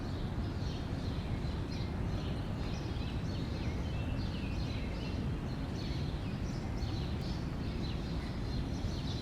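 Birds chirping and calling in Central Park, New York, with many short faint calls scattered steadily throughout over a constant low rumble of distant city noise.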